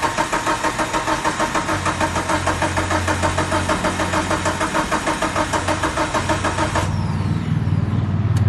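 A neglected Mitsubishi Evo 8 engine cranks over steadily on the starter after years off the road, a loud, rapid rhythmic churning that runs without catching before dropping to a lower, rougher whir near the end.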